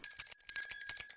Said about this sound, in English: Danny, Susie and Rebecca ring their bells.